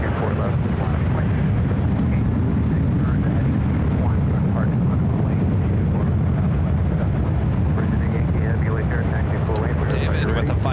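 A Southwest airliner roars down runway 24 left at LAX on its takeoff run, a loud, steady, broadband jet rumble filling the whole stretch with no break.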